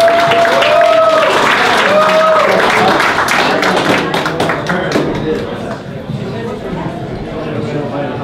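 Audience applause at a Science on Tap talk in Flathead, a dense wash of clapping from a crowd that gradually thins and fades, with voices mixed in underneath.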